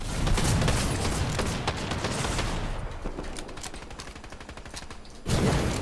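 Rapid gunfire in the GTA roleplay game NoPixel, several sharp cracks in quick succession over the first few seconds, then sparser shots and a burst of noise at the end, with no talk.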